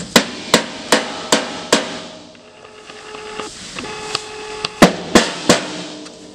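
A rubber hammer taps aluminum truck bed parts during final bed assembly: sharp, ringing knocks in spaced bursts, several early, a quieter stretch, then a few louder strikes near the end, with faint metallic resonance.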